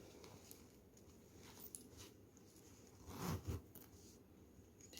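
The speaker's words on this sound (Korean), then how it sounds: "지퍼를 한번 닫아 보세요." A zipper is pulled shut on a handmade crocheted Gucci-style clutch, giving a short faint rasping run near the end amid quiet rustling handling noise.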